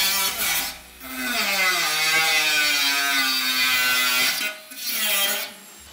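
An angle grinder cuts through a metal trailer part with a loud, continuous high whine, briefly easing off near the start and again toward the end before biting back in.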